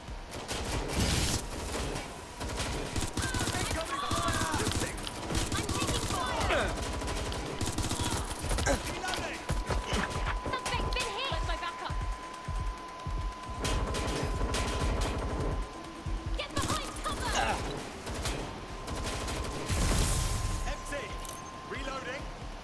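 Heavy weapons opening up in the London-set action game Watch Dogs Legion, sustained loud gunfire and bursts through a long chaotic firefight, with voices talking over the shooting.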